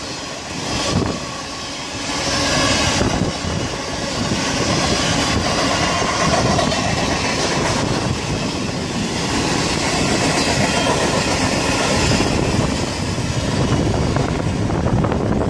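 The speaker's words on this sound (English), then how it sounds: "This is a Pacific National grain train." A long Pacific National grain train rumbles loudly past close by at Beresfield, wheels clattering rhythmically over rail joints in a steady, heavy roar throughout.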